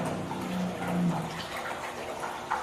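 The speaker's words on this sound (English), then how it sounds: "we'll stir that around and we'll aerate it a little bit" Water is stirred and aerated in a container, making a soft continuous sloshing and bubbling close by, with a low hum running underneath.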